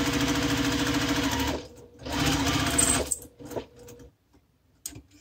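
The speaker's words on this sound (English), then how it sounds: "And you want to stitch right on top of that box we made." A sewing machine stitching a box over a zipper pocket. Two close bursts of rapid, steady mechanical chatter are followed by short taps and clicks as it stops, with no voices.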